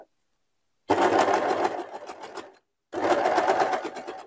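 Sewing machine stitching four layers of fabric together for boxer shorts, two close, loud bursts of steady rapid whirring separated by a short pause.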